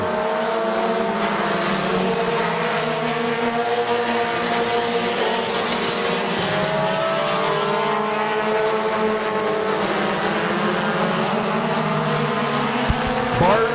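Compact race cars lapping Midvale Speedway, several engines droning and rising in pitch together as they pass close by, loud and continuous, with a brief sharp knock near the end.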